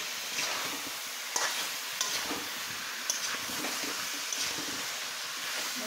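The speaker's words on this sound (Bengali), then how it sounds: "এখন আমি মিষ্টি কুমড়াটা দিয়ে দিচ্ছি। সুন্দর করে কষিয়ে" Pumpkin sautéed with vegetable stems in a pan, a steady close sizzle and frying hiss with light stirring scrapes recurring every second or so, no voices.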